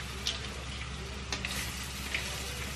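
Shrimp fry in a pan with a steady, close sizzle that runs throughout, broken by a few faint ticks and light clinks.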